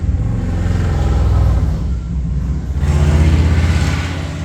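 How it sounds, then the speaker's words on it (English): A drag race car engine revs hard and loud through its open exhaust, a deep continuous rumble that surges, dips briefly near the middle, then climbs again, close by and alone. "No mercy on that exhaust."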